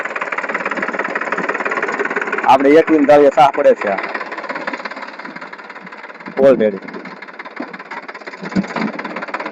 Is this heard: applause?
no